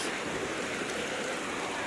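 Rainwater runs and splashes steadily during a downpour in Qatar, a continuous broadband wash of flowing water with no distinct events, moderately loud and close throughout.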